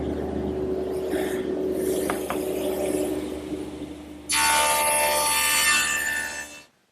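A dado blade on a table saw runs with a faint hum, then cuts a rabbet in a pine board: a loud, dense, bright cutting roar of about two and a half seconds that stops abruptly as the cut ends.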